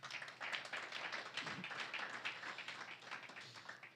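Steady applause from a conference audience, dense clapping filling the whole stretch at an even level, with no voices over it.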